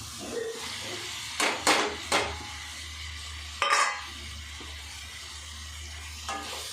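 Sliced onions fry in a pan of hot oil, giving a low, steady sizzle throughout. A spoon strikes and scrapes the pan in a few sharp clanks as the onions are stirred.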